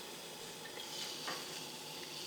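Water simmers at a light rolling boil in a pot on a stainless steel Esbit solid-fuel stove, a faint, steady bubbling hiss with small pops, close and without voices.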